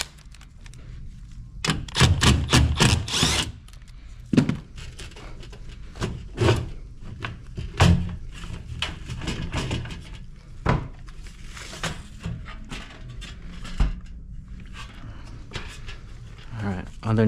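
Clattering and scraping of a faceplate being removed from an Omega water source heat pump: close bursts of hollow panel knocks, rattles and screw sounds, scattered irregularly across the span, with someone talking at times.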